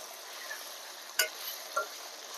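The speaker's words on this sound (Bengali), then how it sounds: "আদা রসুনটা আমি অনেকক্ষণ ধরে ভাজবো।" Ginger and garlic frying in a pan, a soft continuous sizzle with a couple of sharp metallic scrapes from a spoon against the pan.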